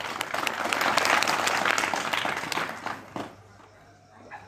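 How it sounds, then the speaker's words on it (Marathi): An audience at a Shiv Jayanti lecture gathering breaks into loud, dense applause that swells, holds for a few seconds, then tapers off to scattered claps. "याच्यासाठी एकदा जोरदार टाळ्या वाजवू."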